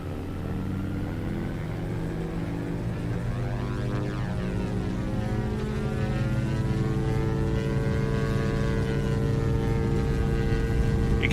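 Diamond DA-62 twin-propeller aircraft in X-Plane, engines at full throttle for the takeoff roll, a steady loud droning hum with rising harmonic tones that swell slightly as the run continues, no voices.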